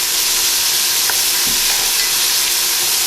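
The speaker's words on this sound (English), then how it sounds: "So we're ready to add in some onions to saute with that?" Loud, steady sizzling of onions sautéing in a hot pan, a continuous crackling hiss with no pauses.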